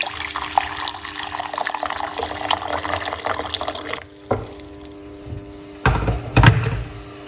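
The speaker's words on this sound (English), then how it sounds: "So we're gonna put 1 cup of hot water." Hot water poured into a medium pot on the fire for parsley and lemon tea, a continuous close splashing stream for about four seconds, then brief quieter pours and splashes.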